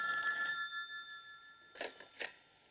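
A telephone rings on a long-distance call, a steady electronic trill that fades, then two short bursts of the ring follow after a pause, fairly faint and with no talking.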